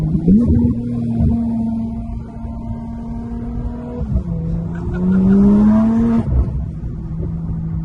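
A Porsche GT3 sports car engine drones steadily at close range, its pitch climbing and dipping as it accelerates and shifts, with a sustained harmonic whine throughout and no talk over it.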